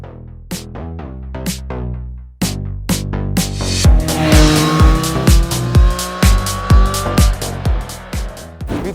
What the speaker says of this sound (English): we've got to ride the Street Triple RS as well as the R on road today